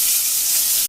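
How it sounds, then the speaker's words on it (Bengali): Potato pieces sizzle in hot oil for a chickpea ghugni, a steady dense hiss of frying close up with no talk over it. "আলুগুলো ভেজে নেব"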